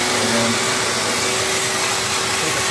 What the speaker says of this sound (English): So I usually keep a vacuum cleaner like right there.